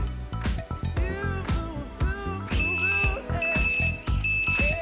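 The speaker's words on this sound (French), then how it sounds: "J'ai l'alarme qui sonne sur la moto et également sur mon beeper." A shrill electronic alarm on a KTM Duke 790 motorcycle, a PKE S802 unit, blares in repeated high-pitched bursts, sounding three times amid a mix of other tones and thumps.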